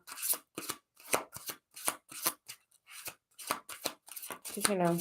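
Oracle cards being shuffled and pulled by hand, a run of quick, close riffling bursts with short pauses between them, a voice briefly heard at the end.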